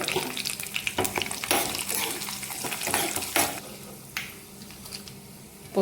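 Tempering spices and dry red chillies fry in hot oil, crackling and spluttering in sharp irregular pops over a lighter sizzle, with some stirring and clattering against the pan.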